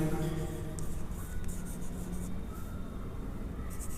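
Pen or pencil writing on paper on an answer sheet, a soft, quiet scratching and rubbing that comes in short strokes.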